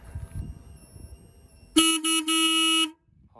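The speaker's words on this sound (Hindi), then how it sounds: "इस पर सिंगल हॉर्न आता है। मैं आपको हॉर्न एक बार बजा कर दिखाता हूँ।" A single horn on a 2023 Royal Enfield Himalayan motorcycle gives one loud, steady honk of about a second with a short break partway through, rising sharply out of quiet background noise and then stopping abruptly.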